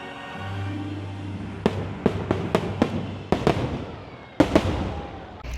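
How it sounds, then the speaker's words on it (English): Fireworks bursting during a Disney Halloween party, a rapid series of sharp booms and crackling pops over a low rumble, about ten reports in quick succession with no talking. "these fireworks are 360, you can watch them from wherever you're at."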